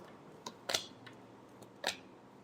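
Tarot cards are shuffled by hand, a few quick riffling bursts close up in a quiet room, with two stronger flicks among softer card taps.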